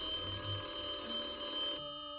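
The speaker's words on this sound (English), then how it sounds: "At the same time, the phone goes off." A phone goes off in a tense anime scene, a steady electronic ringing tone sustained for nearly two seconds before cutting off abruptly, over low background music.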